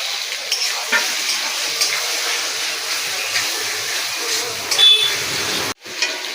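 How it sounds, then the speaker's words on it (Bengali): Cut, drained nehare fish added to fried masala in a pan brings a close, steady sizzle and frying hiss with stirring scrapes, then a sudden brief cutoff near the end before the sizzle resumes. "এবারে দিয়ে দেবো নিহিরে মাছটা, কাটা নিহিরে মাছ, জল ঝরানো দিয়ে দিলাম।"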